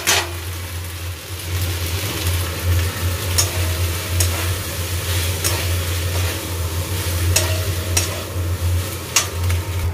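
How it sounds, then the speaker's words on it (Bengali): Boiled pasta is stirred into onions and sauce in a pan, with a constant soft sizzle under repeated scraping strokes of a spoon and a low background hum. "পাস্তাটা দিয়ে এবারে মেলাবো সব কটাকে।"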